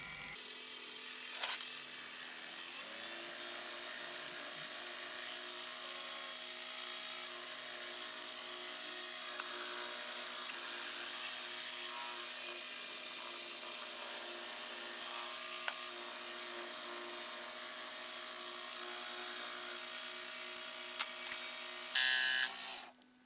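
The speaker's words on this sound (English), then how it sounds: "All that's left now is just to mill this slot" A milling machine cuts a slot in a homemade lathe tailstock die holder, a steady whining, chattering cut that holds level for about twenty seconds before stopping abruptly near the end.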